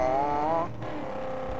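Car engine in the Mad Max video game, a steady droning rev that holds for a moment then drops to a lower idle-like rumble, close and moderately loud with no talk.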